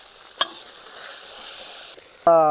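Garlic hitting a hot pan for gobi manchurian, a short bright sizzle that holds steady after a small clink, then a sudden louder rush of frying near the end.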